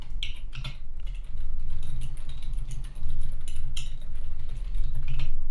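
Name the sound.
typing text on a computer keyboard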